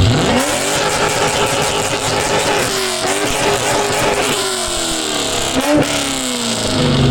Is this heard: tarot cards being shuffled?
no